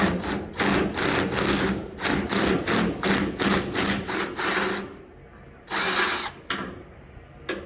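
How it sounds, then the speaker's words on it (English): An impact driver hammering at a fastener while fitting the door of a 1955 Dodge truck, rapid loud rattling bursts repeated in several close runs separated by short pauses. "Oh, we got the impact driver."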